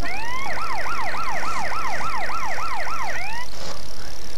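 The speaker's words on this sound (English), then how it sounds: "a lowrider bus with sirens on it" A wailing siren on a lowrider bus in the video game MTA DayZ sweeps rapidly up and down about eight times in quick succession, loud and close, then cuts off abruptly.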